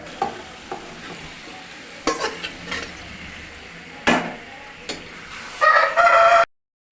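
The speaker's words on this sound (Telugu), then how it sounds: "ఇప్పుడు ఇందులో మనం కొంచెం చికెన్ వేసేసుకుందాము." Chicken pieces coated in spices go into a pan of softened onions and get stirred, a steady sizzle under several scrapes and clinks, with a rooster crowing nearby toward the end and no speech.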